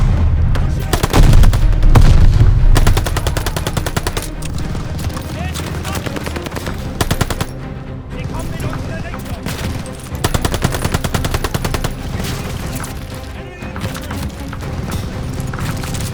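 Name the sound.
machine gun fire in video game Call of Duty Vanguard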